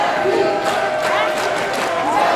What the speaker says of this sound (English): I never thought I'd hear people cheering Chainsaw.